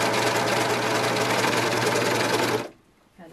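Overlock sewing machine stitching dress fabric: a loud, fast, continuous mechanical whirr runs steadily, then stops abruptly, leaving near silence with a faint trailing sound.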